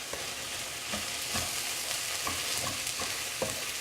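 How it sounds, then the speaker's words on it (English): A spoon stirs spices through a pot of cooking lentils, making rhythmic scraping strokes against the pot over a constant low sizzle, close and fairly loud, with no talking. "so we're mixing this around, getting it all incorporated"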